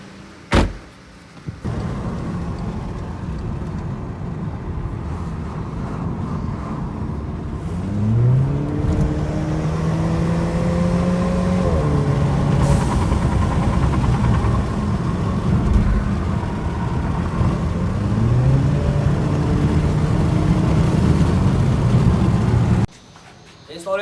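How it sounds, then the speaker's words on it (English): A Volkswagen Passat 1.8 Turbo sets off on a test drive, its engine rising and falling through several gear changes over a steady road rumble, starting after a door thud. "now we shall go for a test drive"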